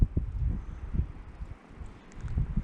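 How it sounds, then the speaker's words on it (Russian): Gusty wind buffets the microphone in low rumbling surges, rising and easing in uneven bursts, during a winter fishing trip as a storm builds and treetops sway. "И ветер все сильнее и сильнее, а теперь вообще вон что творится."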